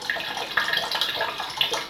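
Water being poured into a pitcher, a steady splashing trickle with small bubbling surges, close and alone throughout.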